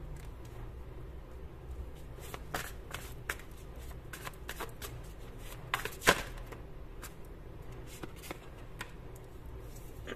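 Tarot cards being handled, shuffled and picked out by hand, soft papery flicks and slides with a sharper snap midway, close and quiet over faint background hum.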